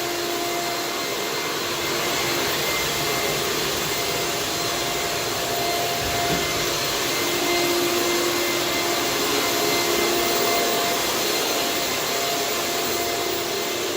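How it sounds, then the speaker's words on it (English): A vacuum cleaner runs continuously over a hardwood floor at the start of a floor cleaning and refinishing job, a loud, steady motor whine and airflow roar with no talking. "So we're starting with the vacuuming process."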